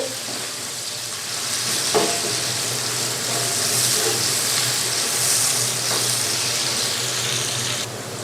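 Onions fry lightly in a pan for an egg and potato curry, giving a constant close sizzle. A couple of faint clinks sound partway through, and no one speaks.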